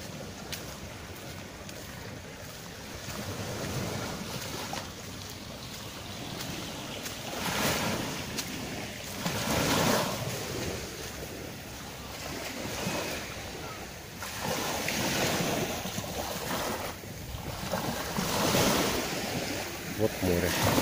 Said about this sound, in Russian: Вот море.